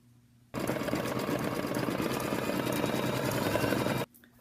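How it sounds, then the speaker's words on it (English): An embroidery machine stitching a tack-down stitch around fabric in a hoop, a loud rapid mechanical whirring that starts abruptly, runs steadily for about three and a half seconds, then stops, close and alone. "set up in my hoop, ready to do the tack down stitch around my material"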